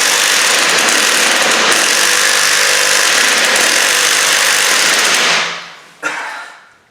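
A weak power drill whirs loudly and continuously at a high pitch, then winds down, followed by a brief second burst that quickly fades.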